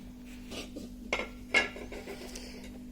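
Shredded cabbage being mixed by hand with spices in a bowl for pakora, soft rubbing and rustling punctuated by a few sharper clinks and knocks against the bowl, close and unaccompanied by talk.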